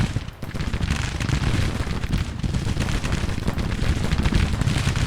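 Civil War artillery guns fire in Grand Tactician: The Civil War, with dense, overlapping booms and gunfire rolling continuously across a loud battlefield din.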